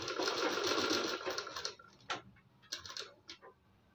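A sewing machine stitches a back neck design on a blouse, running in a loud continuous whir for about two seconds, then a few short bursts and clicks as the fabric is adjusted.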